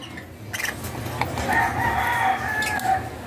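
A rooster crows clearly and fairly close over a steady low background, its long wavering call stretching across most of the moment, with faint clucking around it in a backyard flock that includes a hen.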